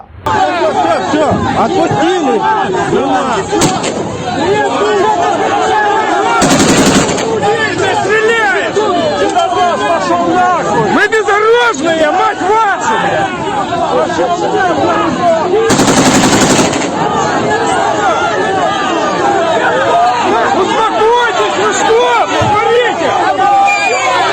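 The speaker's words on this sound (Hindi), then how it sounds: "सामने से रशियन मिलिट्री बंदूक चलाती हुई फायरिंग करती हुई आ रही है" Sustained automatic gunfire from an advancing Russian military force in Berdiansk, Ukraine, loud and continuous rapid bursts mixed with crowd hubbub and shouting voices throughout.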